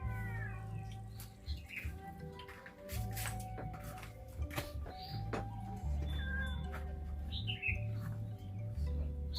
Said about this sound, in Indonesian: Kucing aja.